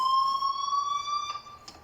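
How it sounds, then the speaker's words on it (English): Steady high electronic fire alarm tone ringing continuously inside a school building in the video game Life is Strange, loud and unbroken with a couple of faint knocks near the end. "please turn off that alarm since that's your job."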